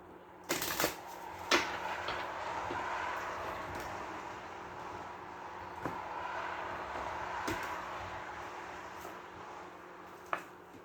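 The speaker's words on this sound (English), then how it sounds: "One more shuffle and we'll cut them." Tarot cards being shuffled up close, a steady riffling whir broken by a few sharp taps and thumps as the deck is squared.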